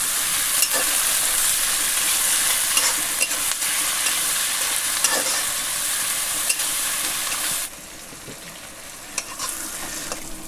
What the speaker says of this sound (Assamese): তাৰপিছত ফ্ৰাই কৰি ল'ম